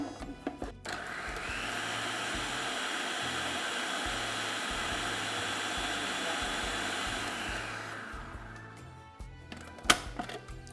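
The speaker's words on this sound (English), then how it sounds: "So set up your food processor, drop a few biscuits inside" A food processor runs steadily for about eight seconds, blitzing biscuits into fine crumbs with a loud, even whirring and a faint rattle underneath, then winds down and ends with a short clatter.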